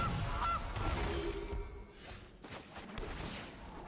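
A goose honk for the Gilded Goose card in MTG Arena, a short nasal honk followed by game whooshes and soft thuds.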